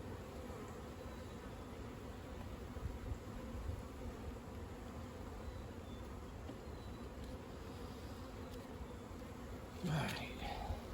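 Honey bees from a strong overwintered colony hum in a dense, continuous buzz close by during a hive inspection, with a brief louder knock near the end.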